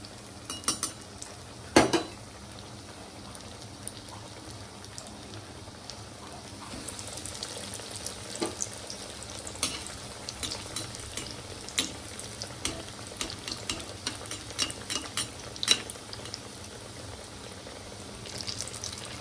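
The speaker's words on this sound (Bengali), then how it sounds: "আমার ফিশ ফ্রাইগুলি একদম ফ্রাই হয়ে গেছে" Fish fry pieces cooking in hot oil in a pan over a low gas flame, a steady soft sizzle with occasional utensil clinks and scrapes, close and continuous, with no one talking.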